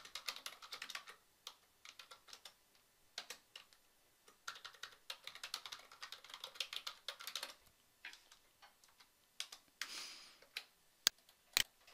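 Typing on a computer keyboard while entering a letter template, quick bursts of light clicking keystrokes with short pauses between runs, close and quiet, no talk.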